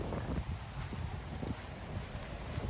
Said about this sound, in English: Damn, it's super windy.